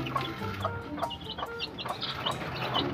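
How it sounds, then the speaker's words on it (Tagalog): Several chickens cluck in short, repeated bursts against a steady farmyard background, close by and moderately loud, with no talking. "Yung mga alaga natin na manok."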